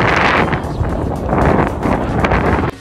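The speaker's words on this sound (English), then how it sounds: "The wind is taking all of my fluff." Strong wind buffets the microphone outdoors in a continuous loud roar and rumble that swells and dips for about three seconds, with no voices over it.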